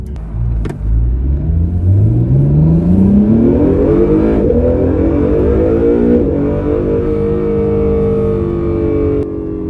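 An Acura NSX engine revving loudly from inside the car, its pitch climbing smoothly and steadily before levelling into a sustained, even drone that briefly dips as it shifts down.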